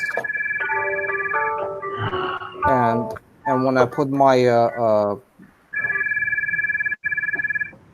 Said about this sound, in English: Sorry about that. It's my phone.